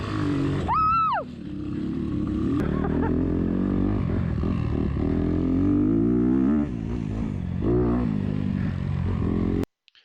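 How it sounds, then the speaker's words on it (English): A 1984 Honda XR 500 motorcycle ridden hard, its engine droning loud and steady close to the mic for most of the stretch with rising and falling revs, cutting off abruptly at the end. "Bike number 8 is one of my favorites, the Honda XR 500 1984"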